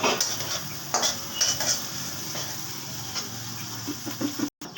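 Pre-fried potatoes tossed into a pan for a lentil-dumpling curry and stirred, giving loud scraping and clattering utensil strokes over a constant sizzle, all close by.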